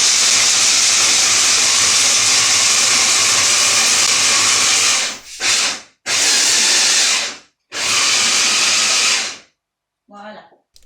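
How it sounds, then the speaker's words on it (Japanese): Food processor grinding almonds for a galette des rois, a loud steady whirring roar in long bursts separated by brief pauses, stopping near the end. "今これからアーモンドがあるのでこれをミキサーで"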